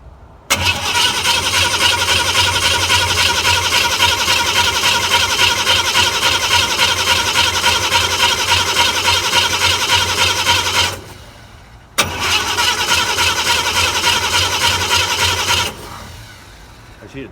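A 1952 Deluxe engine, gas poured down its carburetor, cranks and fires into a loud, rough steady run, cuts out near eleven seconds, then restarts and runs again before dying off.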